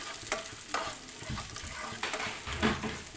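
Chopped onion chunks sauté in a pan for chicken curry, with a quiet sizzle broken by a few soft scraping stirs, close and without voices.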